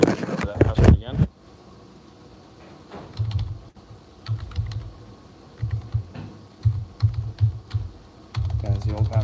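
A computer keyboard tapped in short clusters of keystrokes while a password is entered, near and moderately loud, with brief speech at the start and end.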